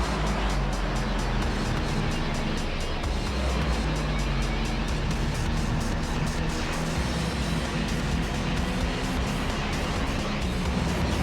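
A Mazda RX-7 racing side by side in Gran Turismo 3, a steady loud engine drone with whooshing road noise that holds without a break.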